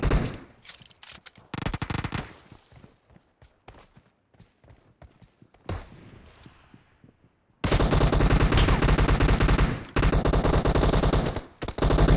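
Gunfire in the mobile shooter PUBG Mobile, with rapid sharp volleys and scattered single shots early, followed by long, loud, sustained automatic bursts that fill the second half, close and dense.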